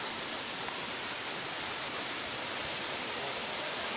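Batrepalli waterfall near Kadiri in monsoon season, fed by an overflowing tank above, a steady dense roar of falling water heard alone without voices.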